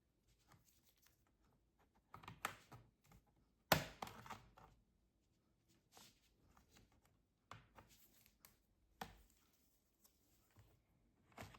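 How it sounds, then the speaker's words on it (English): A thin plastic pry tool works loose the retaining clips of a Dell Pro 14 Plus (PB14250) laptop's bottom cover, giving scattered soft scrapes and quick clicks with one sharp louder snap, close and quiet between bursts. "Using a thin plastic tool, we begin to release the securing clips of the cover."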